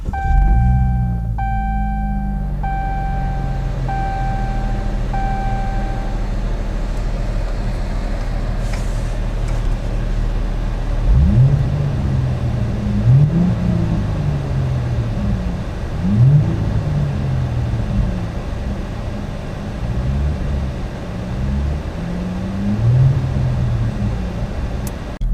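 A car with an aftermarket carbon fiber steering wheel and LED dash display is started, with a few chimes early on, then a steady low engine idle with repeated rumbling surges throughout.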